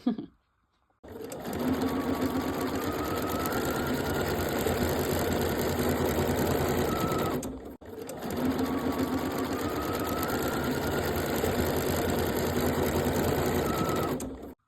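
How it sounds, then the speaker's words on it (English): A sewing machine stitches a sash piece for a quilt top in two long, steady whirring runs split by a brief pause, close and constant, with no talk. "I'm going to put the side one next and sew the side piece"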